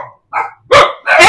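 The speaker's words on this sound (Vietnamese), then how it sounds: "nó sủa kinh không" Close, loud barks from dogs in a kennel setting: a couple of softer yips are followed by two sharp, full barks, with no talking.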